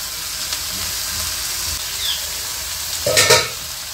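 Cabbage and carrot go into a hot pan of frying onions for chicken spring rolls, giving a steady hiss of sizzling that lasts throughout, with a louder burst of crackle and clatter near the end.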